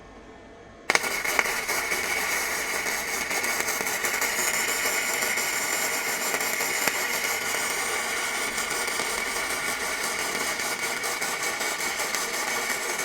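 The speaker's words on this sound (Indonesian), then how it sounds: "Ini adalah pengelasan FluxCore gasless ya," A Daesung MIG 120 runs gasless flux-core MIG welding on 5 mm steel: after a brief quiet start the arc strikes and holds a loud, steady crackling hiss with fine spitting sputters for over twelve seconds, with no talking.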